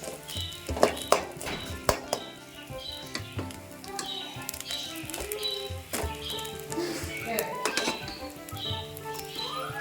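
Cooked rice is stirred into a coconut fry in a pan, with repeated clinks and taps of a spoon against the metal and soft scraping and patter, fairly close and uneven in rhythm.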